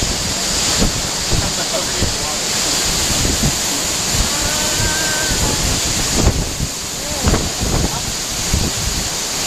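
Broad, steady roar of Silver Falls waterfall, with water rushing continuously close by and gusts of wind buffeting the microphone; faint voices surface briefly under the noise.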